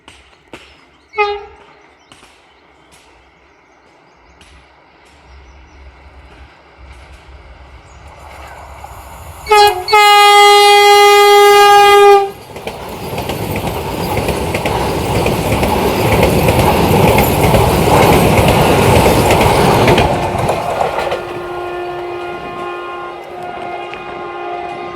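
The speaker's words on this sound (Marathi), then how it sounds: "तर गाईज ट्रेन आलेली आहे वंदे भारत." A Vande Bharat train approaches on the Konkan Railway near the Karbude tunnel, its loud horn blasting for a couple of seconds before the train roars past close by, the rushing noise lasting about ten seconds and then fading.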